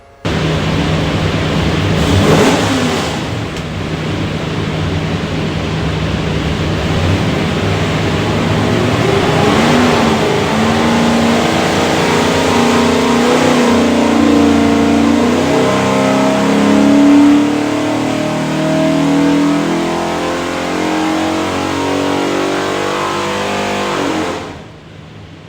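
A Ford 347 stroker V8 bound for a 1970 Bronco revs hard through a full dyno pull, a loud sustained roar that climbs in pitch and cuts off abruptly near the end, with no talk.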